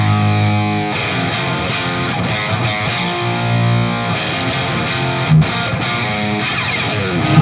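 Heavily distorted electric guitar riff from a song, played loud and dense with sustained crunchy chords and brief rhythmic breaks, and no talking over it.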